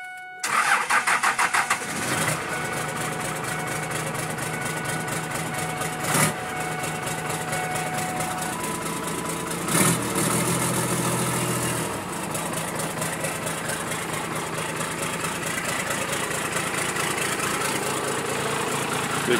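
A 12 valve Cummins diesel in a Ford F350 with no preheater cranks briefly and fires up, then settles into a loud, steady, close clatter with a few short revs partway through.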